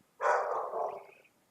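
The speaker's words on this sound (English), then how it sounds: "Oh, man, these dogs, I don't know if you guys can hear them." A single dog's bark rings out, a short tonal yelp that trails off over about a second, somewhat distant in an otherwise quiet room, with no talking.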